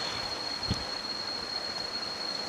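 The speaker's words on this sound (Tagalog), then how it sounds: "Ito na ilog." A river flows at the Blue Lagoon in Kaybiang, Ternate, Cavite, giving a steady, soft broadband rush of water that holds evenly throughout, with one faint thump near the start.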